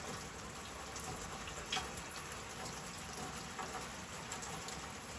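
Steady rain falls and patters on surfaces outdoors, a continuous even wash of drops with a few slightly louder splashes, no voices.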